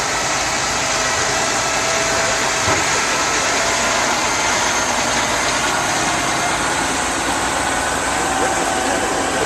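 A truck engine idling at an antique truck show at a sand and gravel yard, a continuous loud, steady mechanical drone with a hissing, broadband character and no pauses.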